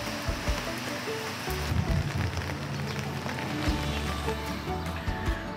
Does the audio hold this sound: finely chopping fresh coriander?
no